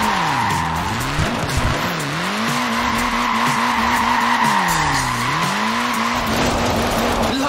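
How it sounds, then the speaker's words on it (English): Car tyres skid and squeal repeatedly as a small, short-wheelbase front-wheel-drive car slides in Forza Horizon 4, the pitch swooping up and down over a steady engine drone, loud and continuous. "Look at that, laying down some rubber there."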